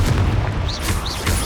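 In Hogwarts Legacy, a Confringo spell explosion hits as a loud, heavy boom with a deep low rumble and two brief whistling streaks. It fills the short moment alone, with no voices.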